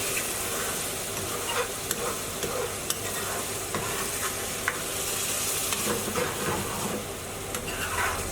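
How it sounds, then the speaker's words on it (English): Chicken naga bhuna curry sizzling in a pan while being stirred, with steady close frying hiss and scattered sharp scraping clicks of the utensil against the pan. "And give it all a quick stir."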